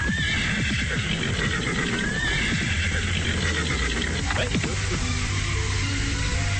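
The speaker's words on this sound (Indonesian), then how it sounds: "Bahkan hanya dari suara derapnya, para prajurit bisa menghitung bahwa yang datang hanya 2 ekor kuda." Two horses in a radio drama soundscape whinny over dense, continuous hoofbeats, loud and close throughout, with a shrill neigh rising above the clopping.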